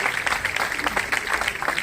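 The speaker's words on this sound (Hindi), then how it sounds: "जोरदार तालियों से अभिनंदन और स्वागत करते हैं" A village gathering in Gannaur, Haryana, applauds to welcome a guest with a loud, continuous wash of clapping close by, and a voice is faintly heard through it.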